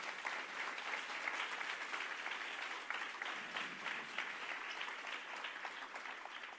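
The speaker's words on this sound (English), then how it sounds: "Can we have a round of applause for our panel?" Sustained audience applause for a conference panel at a sustainable tourism event, a dense, steady wash of many hands clapping at even loudness throughout, with no voices over it.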